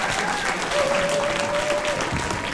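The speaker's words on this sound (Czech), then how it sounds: "zatleskejte si, byli jste skvělí" An audience at a Czech science slam applauds itself after a group test, with dense, sustained clapping throughout and a faint thin tone and a bit of murmuring beneath it.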